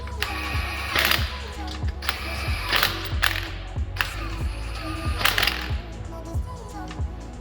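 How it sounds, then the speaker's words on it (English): Torque wrench clicking as lug nuts are tightened on a 2013 Ford Fusion EcoBoost wheel, several sharp clicks spaced over steady shop hum and faint mechanical rattles. "then we torque them to the OEM torque spec using a torque wrench"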